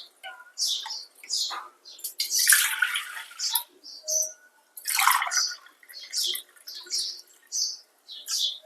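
Water poured from a glass into a pot for making ragi porridge, coming as several bursts of splashing and trickling with short dripping gaps between them, close by and clear, no talk over it.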